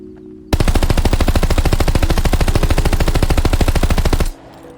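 Automatic weapon fire in the Call of Duty Vanguard video game: one sustained, loud burst of rapid, evenly spaced shots lasting about four seconds, then stopping abruptly to quiet game ambience, no talk.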